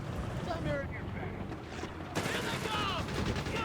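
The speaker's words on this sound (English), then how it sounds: "getting hit with various calibers of machine gun" Machine gun fire in a Company of Heroes 3 battle, a steady rattling stream beneath a dense mix of battlefield noise and unit voices, with a sharp rise in intensity partway through.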